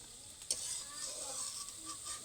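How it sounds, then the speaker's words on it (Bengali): Lentil fritters (bora) fry in oil with a soft, quiet sizzle, and a single sharp stirring knock sounds early on. "লাস্ট ব্যাচের বড়াগুলোও কিন্তু খুব সুন্দর লাল লাল করে ভাজা হয়ে গেছে"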